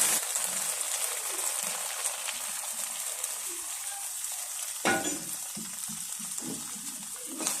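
An egg mixture seasoned with black pepper sizzles steadily in a frying pan, with soft scraping stirs in the hot oil and one sharper clatter midway, close up and without talking.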